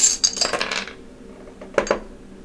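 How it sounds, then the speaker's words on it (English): Dice thrown onto a hard surface during a tarot reading: a bright clatter and short rattle as they tumble and settle, then two quick knocks a moment later, close and clear with no talk. "And I'm just going to throw the die for this."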